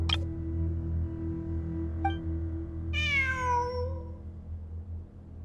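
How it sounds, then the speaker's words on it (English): A cat in a video game gives one clear, drawn-out meow with a falling pitch, set over a steady low ambient drone along with faint brief chimes. "It really is a cat."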